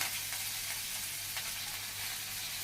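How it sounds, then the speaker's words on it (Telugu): Green chilies hitting hot oil with cumin seeds in a pan, giving a steady, close hissing sizzle that stays constant throughout with a few faint crackles and no voices. "జీలకర్ర వేసుకున్న తర్వాత మనమైతే పచ్చిమిర్చిలు వేసుకోవాలి."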